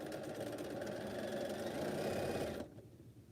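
A sewing machine chain-sews quilt pieces with a steady, quiet mechanical whir of rapid stitching that stops abruptly near the end.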